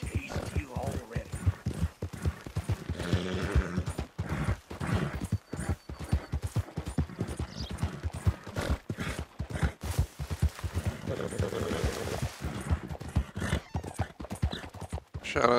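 Horse hooves clip-clop in a steady rapid rhythm in Red Dead Redemption 2, a continuous gallop heard under someone talking.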